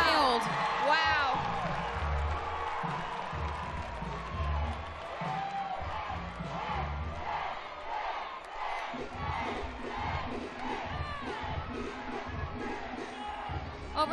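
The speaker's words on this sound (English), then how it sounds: "A beautiful double layout with a stuck landing, and the crowd goes wild." Arena crowd at a college women's gymnastics meet roars and cheers after a stuck double layout dismount, loud and sustained with whoops and shouts, steady crowd noise throughout.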